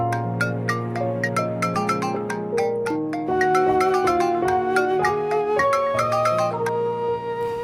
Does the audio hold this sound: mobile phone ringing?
yes